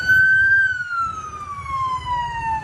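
An ambulance siren wails on a road in a single long, loud tone that slowly falls in pitch, close by, over low traffic rumble.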